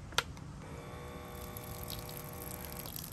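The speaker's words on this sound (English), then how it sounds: "this was supposed to be so I could have running water. And that does work." A tap fitted inside a Skoda Yeti car runs water after a small click, giving a quiet, steady flow with a pump-like whine underneath for a few seconds.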